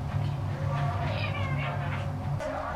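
Several cats meow at an animal shelter in Hayward, with a few rising, wavering cries heard close by over a low steady hum and muffled background noise.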